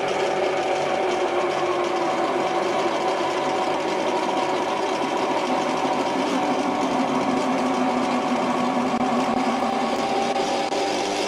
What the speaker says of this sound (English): Man, that geared headstock sounds just awful.